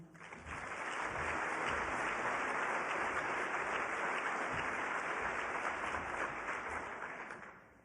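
Sustained audience applause at a YWCA spring breakfast greeting 13-year-old speaker Ayana Marshall, a dense, steady wash of clapping that swells in, holds for several seconds, then tapers.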